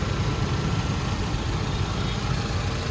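Close, steady idle of a Ford Figo petrol engine, a smooth continuous low rumble that holds level throughout with no voices.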